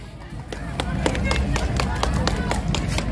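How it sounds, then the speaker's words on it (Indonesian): Audience applause follows a regional Tanimbar dance performance at a cultural festival in Sorong. The crowd claps steadily and densely from start to finish, with sharp individual claps standing out over the dense clapping. "Kita beri tepuk tangan sekali lagi untuk penampilan masyarakat Tanimbar dari Klamono dalam tarian mereka"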